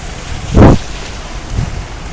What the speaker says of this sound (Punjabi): ਲਓ ਜੀ ਮੀਂਹ ਲੱਗਿਆ ਪੂਰੇ ਜ਼ੋਰ ਦਾ